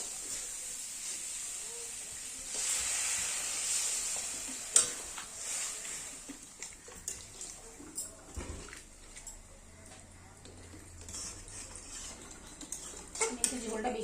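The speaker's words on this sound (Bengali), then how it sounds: "ভালোভাবে মশলাগুলো কষানো হয়ে গেছে, এবার আমি দিয়ে দেবো জল।" Spices frying for ghugni sizzle and hiss in a pan, then water is poured in and stirred with a spoon scraping the pot; soft, intermittent scrapes and clinks continue at moderate level.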